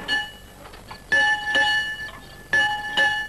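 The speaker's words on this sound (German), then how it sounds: "Und zieh mal kräftig am Glockenseil." A bell on an Old West building, rung by hard pulls on its rope, clangs three times at a steady interval, each strike ringing out and fading, with no voices over it.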